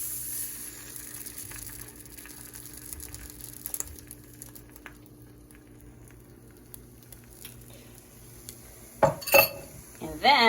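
Breakfast cooking in a non-toxic pan on low heat, with faint low sizzling and a quiet kitchen hum, then a burst of metal utensil clinks and scraping against the pan near the end.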